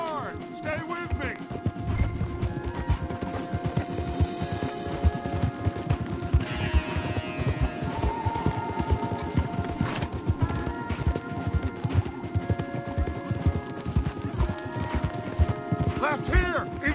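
Several horses galloping hard in Red Dead Redemption 2, a dense rapid drumming of hooves running throughout, close and steady, with a brief whinny and riders' voices calling over the pounding.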